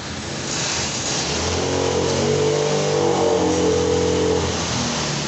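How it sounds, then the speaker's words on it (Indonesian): A motorcycle engine with an idling stop system runs steadily and loudly nearby, a sustained mid-pitched hum with a slight rise in revs partway through. "Kita coba awal kali pertama menghidupkan mesinnya dengan menggunakan kickstarter."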